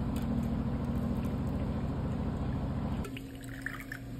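A mango jalapeno cocktail is poured over ice, a steady gurgling stream of liquid that stops after about three seconds, followed by faint clinks and drips.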